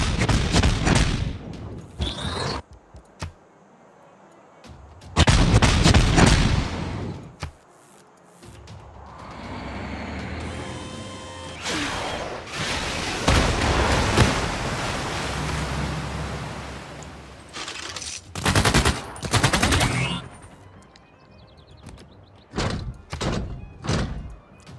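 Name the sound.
artillery bombardment in the video game Civilization VI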